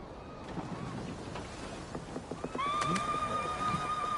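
A horse whinnies in a video game (Ghost of Tsushima), a long high neigh rising over a faint windy backdrop with soft hoof clops, no talking.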